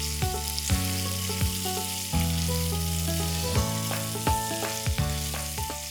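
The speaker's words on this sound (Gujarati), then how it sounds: "આપણે આને લગભગ 2 થી 3 મિનિટ શેકી લઈશું." Gravy ingredients fry in a pan with a constant sizzle and crackle, partly masked by steady tonal music with rhythmic accents.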